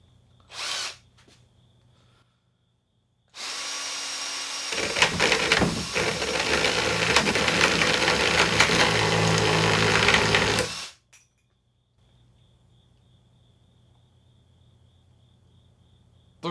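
A cheap chainsaw bought online cuts a soft three-quarter-inch wooden dowel rod: a short buzz at first, then about seven seconds of loud, continuous high-pitched whirring and chattering before it stops into quiet.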